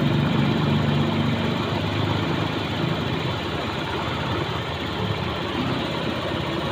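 A Honda automatic scooter engine idles steadily at close range, a constant dense rumble with no rise or fall and no speech over it.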